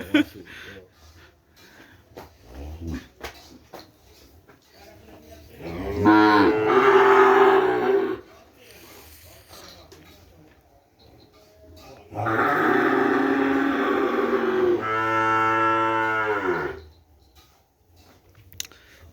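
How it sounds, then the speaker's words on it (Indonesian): Kerapan racing cattle from Sapudi island low with two long, loud, close moos, each lasting several seconds, separated by quieter stretches of farmyard noise and faint background voices. "Maksudnya 15 ekor sapi."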